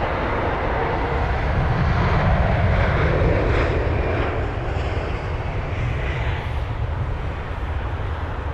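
A British Airways Airbus A320-200 at London Heathrow produces a steady, loud jet engine roar that swells slightly in the middle, heard from a moderate distance with no talking.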